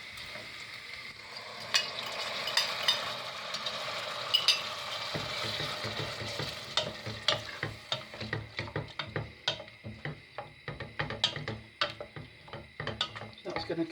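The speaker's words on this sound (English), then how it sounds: "I'm going to put the first can of tomatoes in." Canned tomatoes tipped into a hot pan and starting to cook, soft sizzling that builds into irregular spattering pops and light clinks of utensil against the pan.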